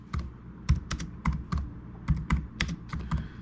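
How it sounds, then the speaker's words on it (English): Fingers tap quickly on a computer keyboard in short bursts of close, crisp keystrokes with brief pauses between the runs. "I'm going to type in Primal Rage"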